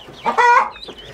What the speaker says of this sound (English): Please excuse the chicken. She's going to lay an egg.